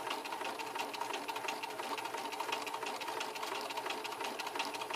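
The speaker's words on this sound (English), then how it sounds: "And I'm going to sew on the lining side." A sewing machine stitches a patch pocket from the lining side about a sixteenth of an inch from the edge, giving a steady, fairly quiet rapid needle chatter with no voices.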